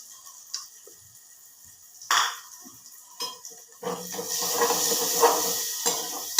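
Chopped onions sizzling in a hot pan for sprouted green gram sambar, with a few sharp metal clinks of a spoon stirring, building into a steady close frying hiss toward the end.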